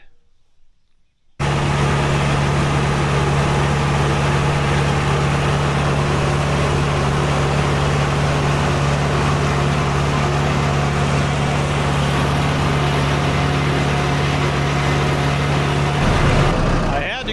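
Hay tractor engine running on a hot day, a loud, steady idle with a constant low drone and rumble that holds unchanged for about fifteen seconds before cutting off near the end.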